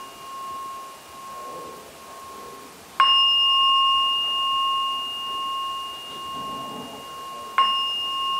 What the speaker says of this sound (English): ringing out the bell, gently, calmly